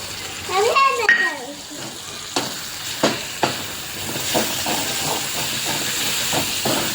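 Tomatoes and onions frying in a pan, a steady hiss of sizzling with sharp spatters and pops scattered throughout, close and moderately loud, opening with a brief burst of louder clatter.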